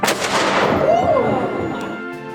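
A cannon fired by historical reenactors at a fort on Mackinac Island booms loudly and close, its heavy blast rolling and decaying across the whole clip after a shouted command.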